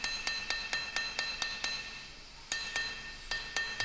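Sharp metallic strikes of a planishing hammer on a steel angle being bent, ringing in quick regular bursts of several blows, a brief pause, then more blows, loud and close with no talking.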